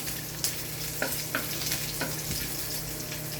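Ginger sautés in a hot pan (kawali), a steady loud sizzle with a few sharp crackles and scraping stirs spaced through it, no voices heard.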